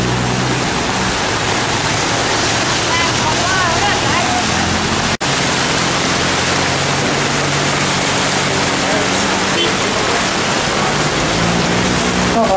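Floodwater rushing through city streets in Ubon, a loud steady wash of flowing water that fills the whole scene, with someone talking over it.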